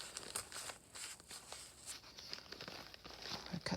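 Soft, close tearing and crinkling of children's book paper in short irregular rips, quiet and scratchy with small pauses between pulls.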